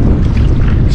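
Strong wind gusting across open water from a boat out crabbing off the coast, a steady loud low roar buffeting the microphone with no pauses.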